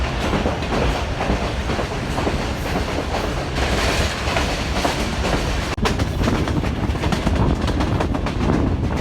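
A Millat Express passenger train runs along the Shorkot–Lalamusa branch line in Pakistan, with a loud, continuous rumble and rhythmic clickety-clack of wheels over rail joints heard from on board, no voices.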